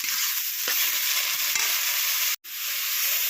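Pea greens cooking in a pan with salt and turmeric give a steady bright sizzle and hiss, with a few soft stirring scrapes and a brief break near the end.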